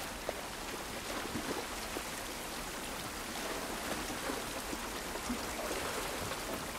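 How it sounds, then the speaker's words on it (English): Steady rain falls outdoors in the video game The Last of Us Part I, a constant even hiss with no other sounds over it. "This rain ain't gonna do us any good."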